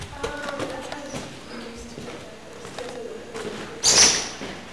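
A bird or bat in an abandoned hotel in Spain makes a sudden, sharp, high-pitched flutter or squeak near the end, brief and fairly close, over quiet room ambience and faint movement.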